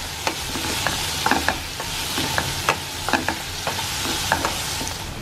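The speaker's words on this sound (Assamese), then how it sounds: "মছলাৰ কেঁচা গোন্ধটো নাইকিয়া হোৱালৈ মই ভাজিম" Spice masala fries in a pan at home, a steady close sizzle broken by repeated scraping stirs of a spoon against the pan.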